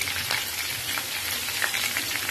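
Finely chopped ginger and garlic fry in hot oil for a street-style chicken fried rice, giving a loud, steady broadband sizzle with small crackling pops throughout and no voices.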